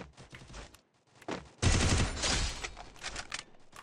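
Bursts of video game gunfire: scattered shots, then a dense rapid volley of automatic fire, with quieter shots trailing after.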